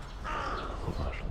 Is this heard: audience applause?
no